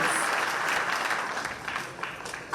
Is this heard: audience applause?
yes